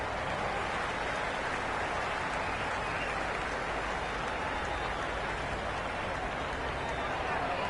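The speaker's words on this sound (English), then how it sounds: "The crowd are really getting quite raucous." A raucous crowd at an England versus Scotland T20 cricket match roars in a dense, steady wash of cheering and noise that never lets up, with commentary voices partly buried beneath it.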